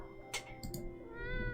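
A big cat meowing in a video game gives a couple of quick bright mews early on, then a longer drawn-out meow near the end, set against a constant low musical background.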